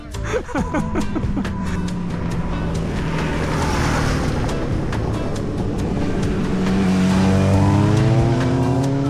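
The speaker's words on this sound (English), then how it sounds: "Sport bike." A sport bike motorcycle passes on an open road, heard as a loud, steady engine roar whose pitch climbs and falls over several seconds, set against constant wind rush from a moving rider.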